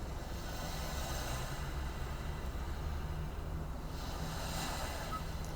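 Continuous soft wash of sea waves with a low rumbling bed, gentle swells rising and fading, no voices.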